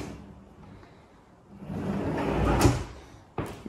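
A handmade kitchen cutlery drawer slides and bumps shut with a wooden clunk, followed by a second short knock, close by in a quiet room.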